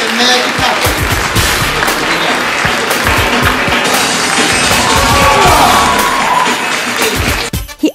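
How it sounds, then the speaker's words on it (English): An audience at a magic show claps hands in a sustained, dense burst of applause with cheering and children shouting mixed in, loud and close, ending abruptly. "Okay, everyone clap your hands."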